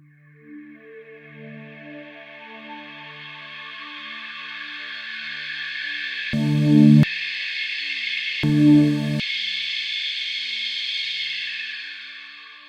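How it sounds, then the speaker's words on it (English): A sustained Omnisphere synth pad drone, thin and nasal at first, its bandpass-filtered tone slowly sweeping open and brightening, with two brief louder bursts partway through. "that just gives us this nice thin bandpass sound, which slowly opens up through the frequencies"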